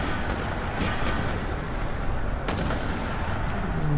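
Cannon artillery fire booms in the video game Empire: Total War, a few distant-sounding shots cutting through a steady roar of battlefield noise, with no talking.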